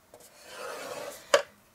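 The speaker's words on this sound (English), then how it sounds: "Rotate your cardstock so that the short side is on top, and then you score this at 2 1/2" A tool drags along a score line on cardstock in one short rasping stroke, ending in a sharper scrape, close and alone.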